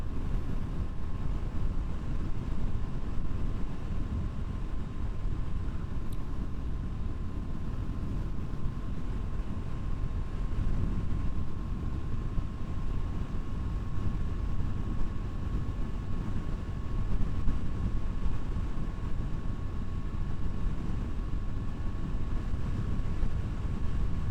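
Constant heavy wind roar buffeting the microphone while riding a KTM RC390 motorcycle, with a low engine drone underneath, loud and unbroken throughout.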